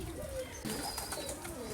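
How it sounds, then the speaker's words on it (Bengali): Running pigeons on a farm coo softly in their loft, where they are building a nest to lay eggs again; the low throaty calls keep rising and falling close by with no speech. "এগুলো আমার খামারের রানিং কবুতর।"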